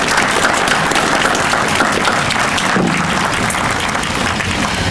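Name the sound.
audience applause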